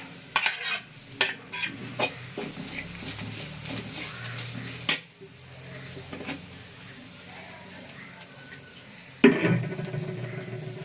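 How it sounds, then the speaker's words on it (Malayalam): Grated coconut and curry leaves roasting in a pan for a Kerala-style mutton curry, with repeated spatula stirring and scraping over a soft dry sizzle, a few sharper clanks against the pan. "നമുക്ക് ഇതിൽ തന്നെ നമുക്ക് തേങ്ങ വറുത്തെടുക്കാം"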